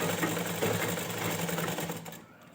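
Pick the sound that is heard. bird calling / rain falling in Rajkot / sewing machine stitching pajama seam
sewing machine stitching pajama seam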